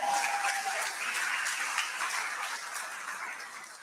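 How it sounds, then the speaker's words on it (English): A town hall audience applauds, a dense, even wash of clapping that stays strong throughout and eases slightly toward the end, with no talk over it. "Let's give him a big round of applause."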